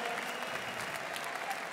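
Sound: applause for both fighters after an MMA bout

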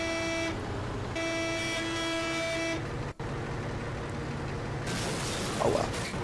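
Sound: bus starting to drive in the video game Bussimulator 2008

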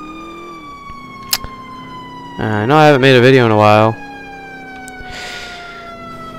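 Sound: fire truck siren in GTA video game firefighter mod

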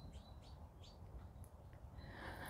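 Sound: many birds singing outside a polytunnel

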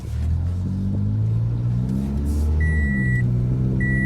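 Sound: car engine running after starting

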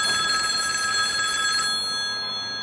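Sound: cell phone ringing

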